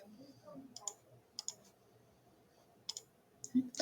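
Computer mouse clicks during a click-and-drag task, arriving as a few sharp, quiet ticks in small pairs and clusters over a faint low room hum.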